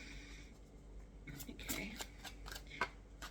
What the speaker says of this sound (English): I'm just going to shuffle these again because they told me to put those back in.